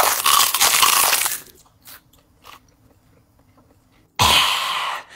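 Someone bites and crunches into a giant pepper, with a loud close crunching chew at the start, a few faint clicks in a quiet gap, then another loud bite near the end.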